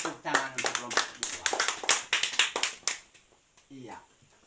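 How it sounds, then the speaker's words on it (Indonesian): Children clapping for a group in a classroom, a burst of sharp, uneven claps lasting about three seconds, then fading into scattered voices. "tepuk tangan untuk kelompok"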